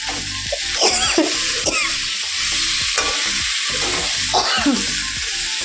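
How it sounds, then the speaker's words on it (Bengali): Fish curry cooking in a pan in a home kitchen, with a steady close sizzle under repeated scraping and stirring strokes, and no voices. "আমি মাছের ঝোলটা বসিয়ে দিই।"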